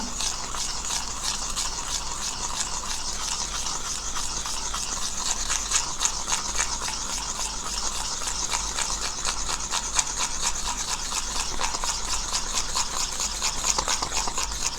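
Hair colour being mixed with 6% developer in a bowl, a steady rapid scraping and brushing rhythm of the mixing tool that continues alone throughout.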